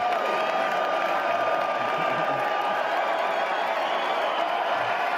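Convention crowd clapping and cheering for Peter Navarro, a thick sustained roar of applause with scattered shouts and whoops, loud and unbroken throughout.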